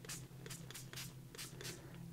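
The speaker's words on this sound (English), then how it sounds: "I'm going to spray this with water" Short hiss-like bursts of a water spray bottle misting painted background paper, several quick sprays in an uneven rhythm, close and moderately quiet over a steady low hum.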